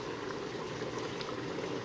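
Thinned egusi mixture poured into a saucepan of red sauce, a steady, soft liquid rush that runs unbroken and close at low level, with no voices over it.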